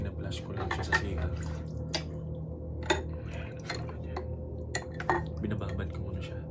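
Dishes are washed by hand in a bucket of water without a sink, with drips, splashes and clinks of plates and utensils close by, punctuated by sharper knocks while a person talks.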